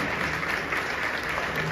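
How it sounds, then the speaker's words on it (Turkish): Audience applause for the young cast of the youth TV series Tozluyaka at an awards ceremony, a dense, steady wash of clapping filling the hall without a break. "onları bir alkış alabilir miyiz lütfen?"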